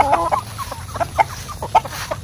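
A Darag rooster on a Philippine farm clucks and calls in short bursts, fairly close, with faint background noise and no talk.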